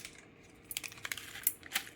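Maggi masala shaken out of a torn packet onto noodles in a pan, giving faint crinkly rustles and a few light ticking taps, close and quiet.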